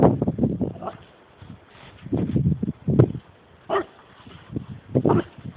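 A puppy barks, yips and whimpers in loud, bursty clusters while attacking a stork outdoors, and a voice calls out over the barking.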